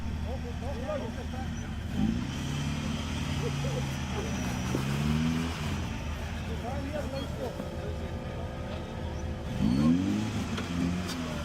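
An off-road 4x4 top truck revs its engine while crawling over huge rocks at an extreme 4WD event, with repeated rising bursts of revving over a steady rumble and crowd noise, and a voice talking over it.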